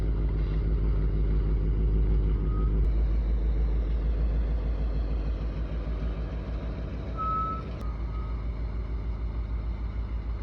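A large truck slowly backs into position, its steady reversing beeps sounding over a loud, continuous diesel rumble close by, with no talking.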